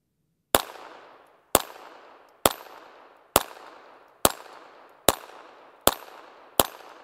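Eight sharp, loud reports from a Hi-Standard Supermatic Trophy pistol firing round after round at a steady pace, each shot ringing out with a short echoing tail, and no one speaking.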